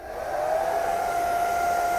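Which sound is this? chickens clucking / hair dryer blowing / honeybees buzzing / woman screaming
hair dryer blowing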